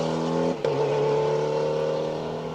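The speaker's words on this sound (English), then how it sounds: "See Warren Smith popping and banging in the Evo." A Mitsubishi Evo rally car drones on a Manx Rally 2023 stage with a steady engine note. One sharp pop cuts through early before the drone carries on.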